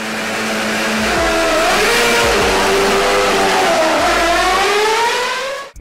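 A turbo-hybrid era Formula 1 race car engine revving loudly and close, pitch climbing and dipping through gear changes before cutting off abruptly at the end.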